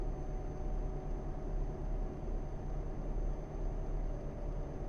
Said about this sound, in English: I'm driving incredibly slow in this truck.